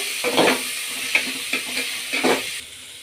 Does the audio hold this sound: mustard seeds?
yes